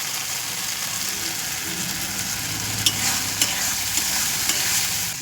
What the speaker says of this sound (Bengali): গ্যাসটা ধিমি আঁচে দিয়ে কষতে হবে বন্ধুরা, নাহলে মশলাটা পুড়ে যাবে